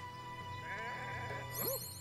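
Cartoonish sheep bleats from the video game Renowned Explorers: International Society, a quavering bleat followed by a shorter higher one, clear and close over a quiet game soundtrack hum.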